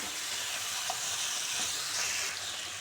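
Chicken sizzles steadily on a hot tawa over a high flame as cumin powder goes in, a continuous close frying hiss with no voices.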